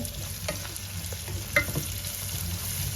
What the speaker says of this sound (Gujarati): હવે આપણે એમાં આ ડુંગળી નાની ચોપ કરીને નાખી દઈશું